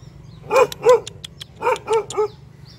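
A dog at a rural home in the Vietnamese countryside barks five times in two quick pairs and a single, loud and fairly close, with no talk.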